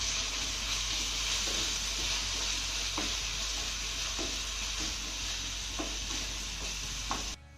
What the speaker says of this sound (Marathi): हे मसाले मी चांगले मिक्स करून घेतले आणि अर्धा मिनिट चांगले परतून घेतलेले आहेत